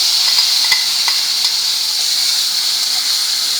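Blended coriander chutney hissing in a pan of hot tempering with cumin and garlic slices, as a steady, close sizzle with faint bubbling and a few small clicks.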